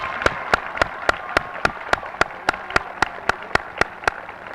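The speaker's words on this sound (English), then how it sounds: "Let's have a round of applause for this group." A high school commencement audience applauds a group of graduates, a steady crowd clapping with a regular sharp rhythmic clap standing out above the diffuse applause, with no speech.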